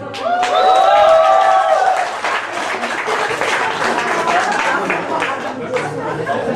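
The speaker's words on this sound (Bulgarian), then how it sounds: "Аплодисменти!" Audience at a comedy bar in Burgas claps loudly for several seconds, mixed with crowd chatter and a voice speaking over the applause near the start.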